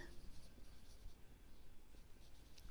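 A pen scratches across paper while ledger accounts are written out, faint, close and irregular, with soft strokes and pauses and no talk.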